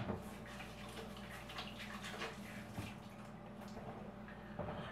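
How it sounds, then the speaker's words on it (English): Hands washed under a running tap ahead of cooking, a steady close stream of water with splashes and drips, alone without talk. "After that, wash your hands."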